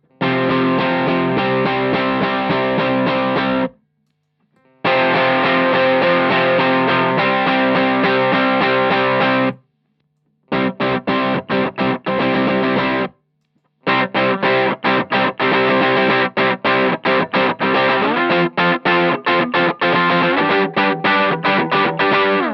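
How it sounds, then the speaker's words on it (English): Heavily distorted electric guitar, distortion run straight into the amp, chugging loud and dense in several bursts separated by brief silences. "So the distortion straight into the amp sounds like this."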